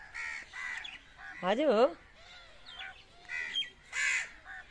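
A crow caws in the background of a home while an adult speaks to a child, the calls brief and partly buried under the talking.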